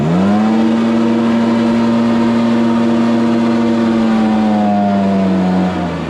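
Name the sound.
Stihl BR430 blower engine revving and bogging down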